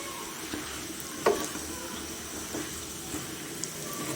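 Camel puri halwa being stirred and softened in ghee in a pan, with a soft continuous sizzle and a few faint scraping strokes, one slightly louder near the start, and no voices.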